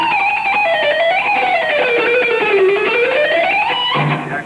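An electric guitar plays a smooth, sustained lick from the breakdown of a song, its pitch gliding down and back up over several seconds, loud and continuous with no talking.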